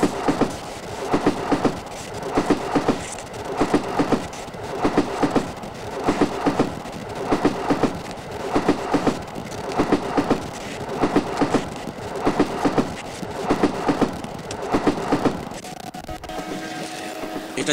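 A local train on the Barasat–Hasnabad line running steadily, close and moderately loud, with a regular clickety-clack of wheels over rail joints repeating in even pairs about every second and a half.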